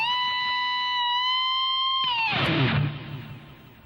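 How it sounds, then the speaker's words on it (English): Electric guitar solo from a blues tune closing on a step-and-a-half string bend: a sustained bright note rings, then a sharp pick attack slides upward and fades, played alone and clearly. "So the solo ends with a step and a half bend."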